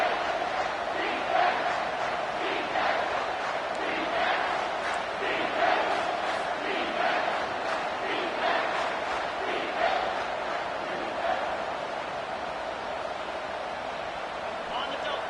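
At a Tennessee versus Kentucky college football game, the home crowd roars loudly and continuously on a third down, with a commentator talking over the sustained stadium noise.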